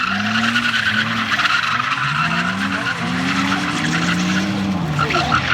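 A drift car on a track with a worn-out tire, tires screeching and skidding in long wavering squeals at close range, engine roaring and people talking in the background.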